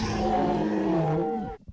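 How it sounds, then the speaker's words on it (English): A panther roar sound effect: one long, deep, growling roar with a rough, throaty tone that swells, holds, then cuts off abruptly, loud and close with no talk. "That is the sound of a Carolina Panther."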